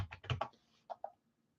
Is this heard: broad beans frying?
no